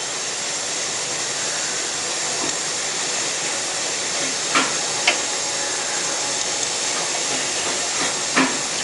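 Pineapple rasam boils in a pot: a steady, close hiss of bubbling liquid with occasional soft pops, continuous and alone.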